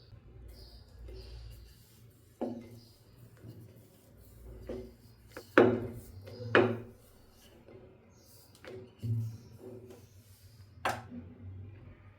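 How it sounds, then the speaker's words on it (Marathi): Small wheat-dough balls are rolled out into puris for matar puri, giving soft, scattered knocks and scrapes of the rolling pin on the board, with a few louder taps, close up and without speech. "कणकेचे छोटे छोटे गोळे बनवून पुरी लाटून घ्यायची आहे"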